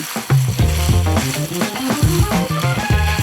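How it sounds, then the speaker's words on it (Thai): Cheese being stirred into a sizzling panang curry with bologna in a hot pan: loud, steady frying hiss with scraping stir strokes throughout and no voices. "ใส่ชีสลงไปคลุกเคล้าพอเข้ากัน รอชีสพอละลายนะคะ"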